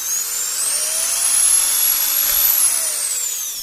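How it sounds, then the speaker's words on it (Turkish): A small power drill with a thin bit whines steadily while boring an extra hole in a plastic DVD drive cover, a close high-pitched tone that rises and then falls, with no talking. "şuradan bir ekstradan delik açmaya çalışacağım"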